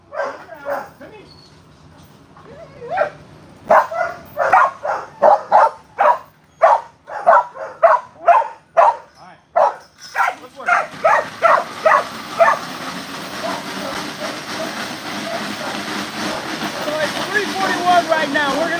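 Dogs bark before a slatmill workout, loud and close, in a rapid series of sharp barks and yips. After about ten seconds a steady rumbling rises beneath the continuing barks.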